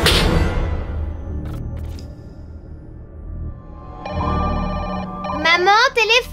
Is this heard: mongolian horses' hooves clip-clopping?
no